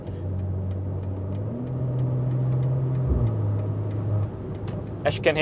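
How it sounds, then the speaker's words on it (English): A BMW B58 engine with downpipe, OPF delete and tune drones through the exhaust at a steady low pitch in sport mode, loud and close, with a brief rev near the middle and speech-like sounds riding over it. "the car does drone a little bit more"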